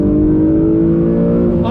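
Twin-turbo V6 engine of an Acura NSX sports car pulling hard on throttle, a loud, close, steady rising drone filling the interior with a rich low growl throughout.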